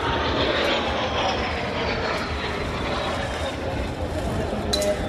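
Aerobatic airplanes fly in formation at an air show, one inverted above another, making a steady, loud engine roar that fills the whole stretch without a break. An announcer's voice may be buried underneath it.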